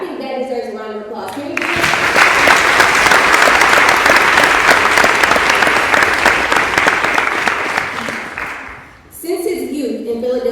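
A college lecture audience breaks into loud, sustained applause lasting several seconds, with a voice speaking before it starts and again as it fades.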